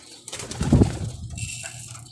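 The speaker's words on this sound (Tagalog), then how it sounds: "Diyan muna sila sa kain mga kalapatids." Racing pigeons at feeding time give a short burst of cooing and fluttering, with a loud throaty coo near the start and softer rustling after.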